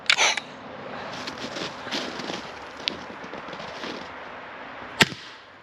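A Pistelle X-68 airgun with a long barrel fires a 10-gram steel polymer pellet, a sharp crack near the start and another single sharp snap near five seconds, with quieter rustling between.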